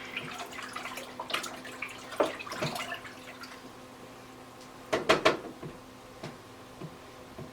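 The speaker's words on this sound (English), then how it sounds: "Give it another swish." Water swished around in the reservoir of a Root Farm hydroponic garden system, heard as a few short, soft sloshing splashes at a close distance against quiet background hum.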